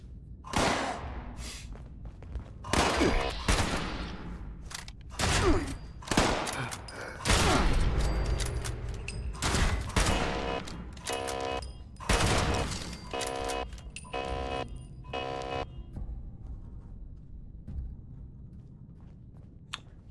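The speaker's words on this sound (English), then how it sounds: "Shooting. Stop shooting at me." Gunfire in the video game Fallout 76, with loud bursts of rapid automatic shots and single cracks coming in irregular clusters, separated by brief lulls.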